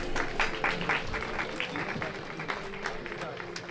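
Audience applause at a film festival book unveiling in Ireland, fairly faint and distant clapping that carries steadily for a few seconds.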